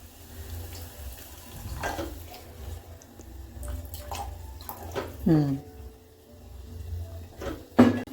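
Water is poured into an egg curry with tomatoes cooking in the pan, heard as a few short, separate splashing bursts over a quiet kitchen background.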